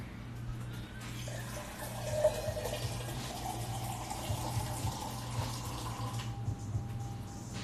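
A kitchen tap runs steadily into a sink for several seconds with a constant splashing hiss, then cuts off near the end, heard close and alone without talking.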